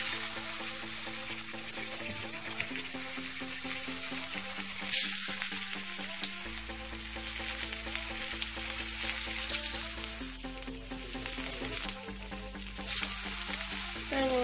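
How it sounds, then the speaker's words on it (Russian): Homemade potato chips fry in a pan of boiling oil, a steady dense crackling sizzle that stays loud and close throughout, with a low hum underneath and no voices. "масло уже закипает в сковородке"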